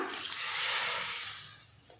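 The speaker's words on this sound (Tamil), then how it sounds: "அதுக்கப்புறமா மிக்ஸி ஜாரை கழுவி அந்த தண்ணியை சேர்த்துக்கலாம்." Water pours and rushes in a brief steady gush into a pot of okra sambar, swelling then tapering off, close and fairly loud.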